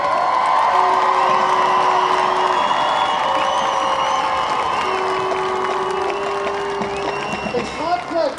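A crowd claps and cheers at a high school Division II state football championship trophy presentation, with sustained applause, scattered whoops and shouts, and a few tonal sounds over the noise.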